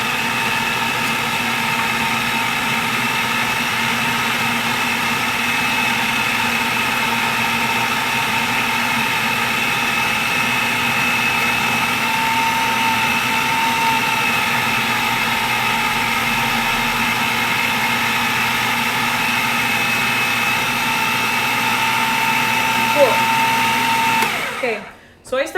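A blender grinds homemade vegan pesto on low speed, giving a loud, steady motor whir that runs nearly unbroken for about twenty-five seconds before cutting off abruptly at the end.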